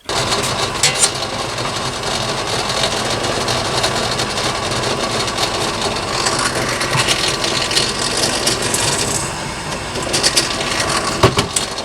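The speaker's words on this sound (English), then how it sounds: "let's drill those 2 first" Loud continuous whirring of an electric drill boring holes during a hard tail bobber motorcycle restoration, with rattling and shifting pitch over several seconds.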